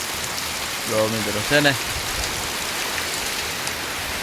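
Steady rain hisses throughout in a courtyard, an even wash of falling water, while someone speaks briefly near the start.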